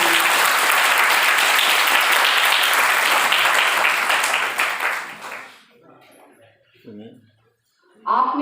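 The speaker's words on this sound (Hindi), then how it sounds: "आप बच्चों से निवेदन करती हूँ कि एक बार जोरदार अपने शिक्षकों को तालियां बजाइए।" Students at a seminar clap for their teachers in loud, dense applause that lasts about five seconds and then fades away, after which a voice speaks briefly.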